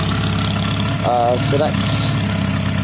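Honda CB250 motorcycle engine idling steadily close by with a throaty, even chug, throttle not connected, while someone briefly speaks over it.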